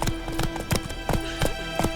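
Roach, Geralt's horse in The Witcher 3, galloping with hooves striking in a steady repeating rhythm of loud, close clip-clops.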